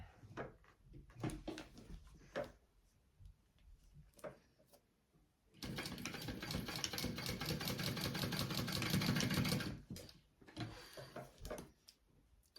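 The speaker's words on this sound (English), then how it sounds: "I'm going to sew these ends together" A sewing machine stitches the ends of a handmade fabric bag together, a fast steady run of needle clatter for about four seconds, preceded and followed by scattered handling clicks and taps.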